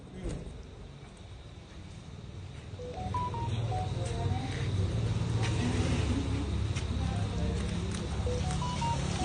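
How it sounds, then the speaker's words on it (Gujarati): A phone keypad dialing a number gives short, faint beeps in a few quick bursts over a steady vehicle engine rumble that grows louder partway through. "ઉભી રે જયશીલભાઈ ને ફોન કરું"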